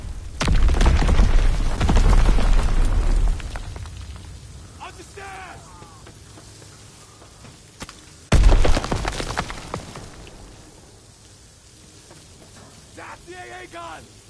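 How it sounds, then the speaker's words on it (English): Enemy mortar fire landing in a war video game on PS4, with two heavy booming explosions a few seconds apart, each followed by rumbling debris. Game voices call out between the blasts. "Enemy mortar fire incoming."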